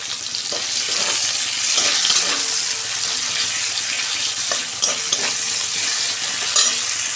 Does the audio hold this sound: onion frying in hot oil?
yes